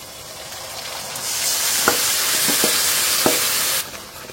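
Marinated goat meat frying in a pan with already-fried onions, a steady broad sizzle that swells and holds, with a few sharp clinks of a utensil stirring, close and alone.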